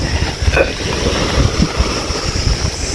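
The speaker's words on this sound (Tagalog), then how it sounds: "Medyo maalon na konti." Slightly rough sea waves near a coast in Chania, a continuous wash of water with soft low thumps of waves arriving every half second or so, fairly close and moderately loud.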